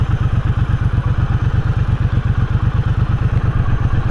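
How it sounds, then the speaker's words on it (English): A 2021 Triumph Bobber motorcycle engine runs close by with a fast, even, throbbing beat, a loud, continuous mechanical drone and a slight whine. "It's got an odd little whine to it, this bike."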